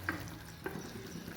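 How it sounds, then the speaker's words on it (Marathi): Fried okra is tipped into sizzling masala in a pan and stirred, giving a faint, soft sizzle with two quick scraping stirs, heard alone. "आता आपण या मसाल्यात भेंडी टाकून घेऊ"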